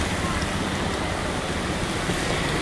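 Heavy rain pours steadily over a busy market street, a dense, even wash of noise with no pauses or distinct voices.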